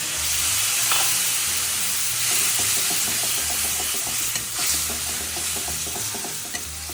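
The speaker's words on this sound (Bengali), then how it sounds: "একটু ভাজা হোক।" Spice paste for a vegetarian dum aloo, with no onion or garlic, frying in a pan: a continuous close sizzle and hiss, with light stirring clicks and scrapes through it.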